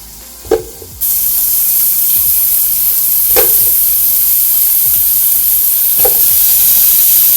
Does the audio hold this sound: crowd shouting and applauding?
no